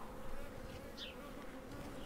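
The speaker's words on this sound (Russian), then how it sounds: "Вот эта пчелиная семья сейчас находится в роевом состоянии" Honey bees from a colony in swarming condition buzz at an opened beehive in an apiary, a dense steady hum with a single bee passing close, no one speaking.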